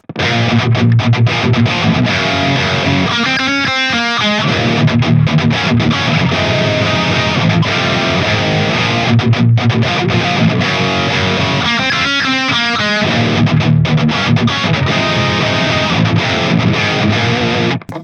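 Heavily distorted electric guitar played through an ENGL Power Bond E645 amp, a loud, dense, sustained wall of crunch with rhythmic chugging bursts recurring across the passage.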